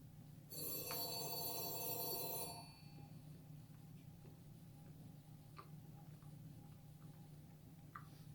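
An electronic telephone bell rings in one sustained burst of about two seconds, then stops, leaving a quiet room hum with a few faint ticks.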